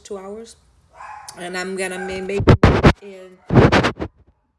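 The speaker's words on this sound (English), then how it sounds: "you guys can hear the dog barking" A dog barks in sharp, loud bursts, two clusters of close, punchy barks, while a person talks in an indoor painting session; a short whine or whimper precedes the barking.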